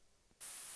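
Low, quiet hiss suddenly jumps into a loud, bright wash of distorted white noise that holds steady to the end: a filtered, distorted white noise layer from the Serum synth.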